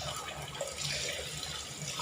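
Cleaned frog bodies are washed in water, giving a soft, continuous splashing and running-water wash that stays fairly quiet and steady for a couple of seconds.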